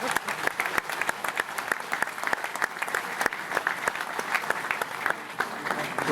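An audience at a book promotion claps steadily and continuously, a dense, even wash of applause from a seated crowd that holds without pause throughout.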